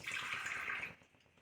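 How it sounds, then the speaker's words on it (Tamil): Water poured into a pan of Bombay chutney cooking on the stove, a steady splashing pour of about a second that stops abruptly, leaving quiet simmering. "கொஞ்சமாக தண்ணி விட்டுக்கலாம்."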